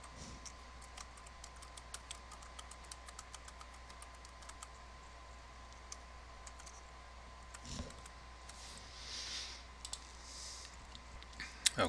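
A computer mouse clicks during a password reset, with soft, quick clicks scattered across the stretch, quiet and close over a faint steady electrical hum.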